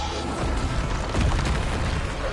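A Bombarda blasting spell from the Hogwarts Legacy video game goes off with a dense, rumbling boom that swells midway through, loud and continuous across the couple of seconds with no voices over it.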